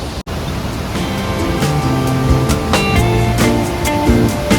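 A continuous, dense rush of falling water fills the scene, loud and unbroken, heard from the middle of Ripple Waterfall in Munnar.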